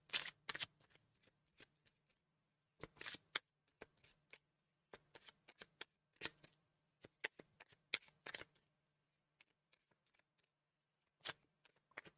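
Tarot cards are shuffled in short, separate crisp bursts of riffling and tapping, spaced by near silence, quiet and close with no voices.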